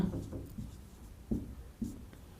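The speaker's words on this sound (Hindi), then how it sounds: "तो इसी लाइन में लिखते हैं तथा" Chalk or marker writing on a board during a Class 12 maths lesson on relations and functions, heard as a few soft, close scratchy strokes in short bursts, with no talking.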